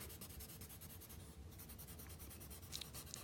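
A Color Burst colored pencil shades across paper in quick back-and-forth strokes, a close, dry, scratchy rubbing with a brief pause near the middle.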